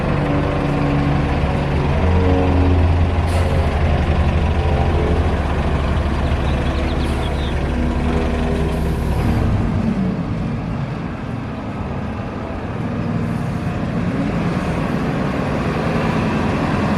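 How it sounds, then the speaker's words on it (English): A Gillig low floor bus on a public transit trip toward Salinas gives off a steady, loud engine drone and low rumble from inside the cabin, with road noise and a slight dip in pitch partway through, and no talking. "my bus to Salinas is a Gillig low floor"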